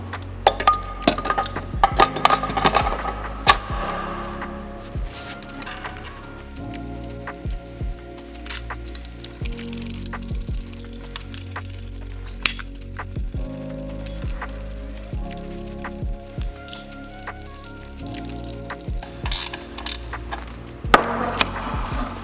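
A steel cover plate is fitted back onto a shot blast wheel housing: a run of sharp metallic clinks and knocks, close and irregular, with a few louder bangs near the start and end and no talking.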